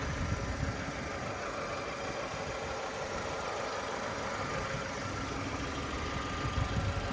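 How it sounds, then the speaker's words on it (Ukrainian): Engine of a freshly imported Chevrolet Nubira with low mileage idling: a steady, smooth, low rumble heard faintly and evenly throughout, with no voices. "Двигун працює чітко."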